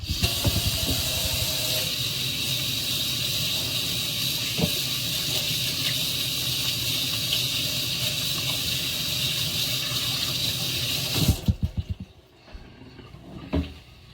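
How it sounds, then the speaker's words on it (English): A tap runs steadily as someone washes their hands, a constant hiss of water for about eleven seconds that then stops, followed by a few soft knocks and handling sounds. "let me wash my hands"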